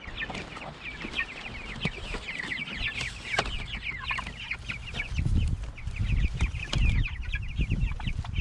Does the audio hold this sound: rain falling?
no